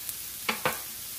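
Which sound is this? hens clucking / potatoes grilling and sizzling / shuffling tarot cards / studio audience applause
potatoes grilling and sizzling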